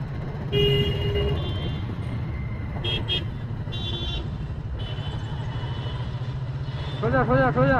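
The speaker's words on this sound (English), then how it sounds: "Lot of traffic, and we have to go through that" Busy road traffic heard from a motorbike on a rainy day, with a constant engine and road roar, several short car horn toots, and a longer warbling horn near the end, under a speaking voice.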